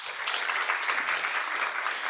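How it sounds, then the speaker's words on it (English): A conference audience at a global CRVS and gender symposium claps steadily to welcome a speaker, an even wash of applause at moderate volume with no talking over it. "Please join me with a round of applause in welcoming Dr. Montasa Kamal"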